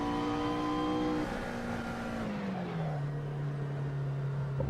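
Car engine in Assetto Corsa at Sebring International Raceway, a steady droning tone that holds, then drops in pitch as revs fall, close and continuous with no talk.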